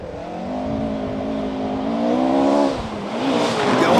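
Rally car driven hard on a stage before spinning, engine revving loudly with rising and falling pitch, then a sharp dip and renewed revving, close by and without speech.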